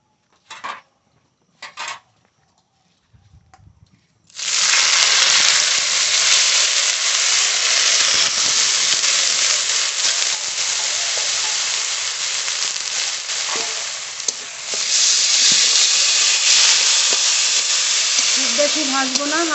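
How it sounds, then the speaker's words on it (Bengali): Lentils sizzle in mustard oil in a wok, a loud continuous frying hiss that starts abruptly after a few quiet seconds with small clinks, then holds steady with occasional stirring scrapes. "ডালটা একটু ভেজে নেব কড়াইতে তেল দেবো সর্ষের তেল"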